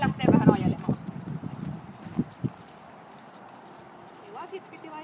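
A horse's hooves clip-clop on the ground while pulling an American-style sulky cart, close and steady at first under a talking voice, then fading to softer, sparser steps.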